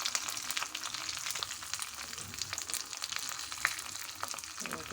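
Asafoetida powder drops into hot oil in a pan, setting off a steady close sizzle and crackle of frying that runs unbroken throughout, with no talking.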